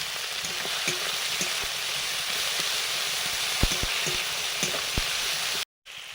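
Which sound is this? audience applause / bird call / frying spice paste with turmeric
frying spice paste with turmeric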